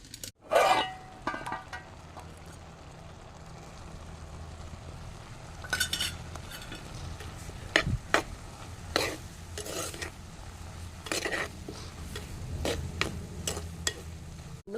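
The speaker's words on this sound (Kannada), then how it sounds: "ಈ ಬೆಳ್ಳುಳ್ಳಿಯನ್ನು ಕಾಯಿ ಜೊತೆಗೆ ಚೆನ್ನಾಗಿ ಮಿಕ್ಸ್ ಮಾಡಿ ಮತ್ತೆ ನಾನು ಪಲ್ಯಕ್ಕೆ ಹಾಕ್ತೇನೆ" Grated coconut and crushed garlic being stirred into a vegetable stir-fry in a pan: soft, sporadic scrapes and clinks of a utensil over a quiet background hiss.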